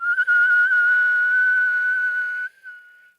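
A steady, loud whistling inhale during a guided breathing exercise, one continuous breath drawn in for about two and a half seconds before it tapers off into a fainter, thinner tail.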